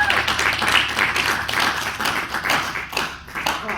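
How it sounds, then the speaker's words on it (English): Clapping and applause from the audience at a men's mental health convention, a dense, steady patter of many hands lasting several seconds at moderate loudness. "I think he deserves a louder applause."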